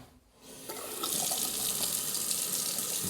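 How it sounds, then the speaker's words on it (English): Tap water from newly connected taps pours into a freshly installed kitchen sink, starting after a brief quiet moment and swelling into a steady, loud, close rushing splash. "we've got the water running nicely now"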